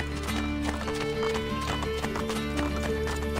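Steady clip-clop of hooves with a horse whinnying in the video game Assassin's Creed Brotherhood, set against a constant hum and rich layered background sound.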